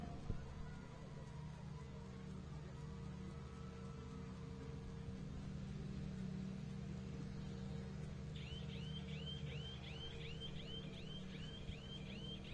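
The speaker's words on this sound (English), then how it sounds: "This noise here, this siren, is to signify it's in EV mode." Safari Rally Kenya 2024 car emitting a short repeating electronic siren to signal electric EV mode, a rapid series of rising chirps entering partway through over a faint low engine hum, fairly quiet.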